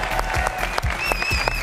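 A television game show studio audience applauding the Thessaloniki contestants at the end of the episode, with dense, steady clapping that is loud and close, and a voice faintly underneath.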